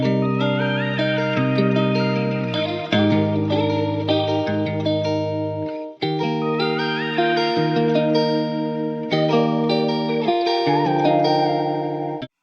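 A vocal sample pitched up and drenched in heavy reverb with shaper-box effects plays as sustained, wavering melodic tones in three phrases, tucked behind a sad guitar-style beat, with no talking.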